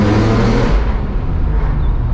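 A BMW E46 M3 with an SMG gearbox roars loudly as it accelerates under load, then its engine note drops abruptly as a gear change cuts in and continues at a lower, steady drone.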